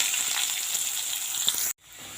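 Onions sizzle steadily in hot oil left from frying fish, with mustard seeds added, a bright continuous hiss that cuts off abruptly near the end before a softer sizzle resumes.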